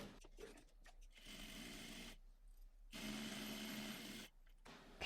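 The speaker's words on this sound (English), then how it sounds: "Now we're going to head back to our sewing machine and we are going to top stitch along that sewn edge." A sewing machine top stitches along the sewn edge of a fabric bag, running in two steady, close-up whirring bursts with a short quiet pause between them.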